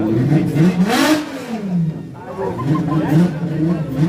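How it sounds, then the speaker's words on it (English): A drag racing car's engine revs loudly at a drag day event, rising and falling in pitch over a few seconds, with people talking nearby. "Oh, how can a car sound like that?"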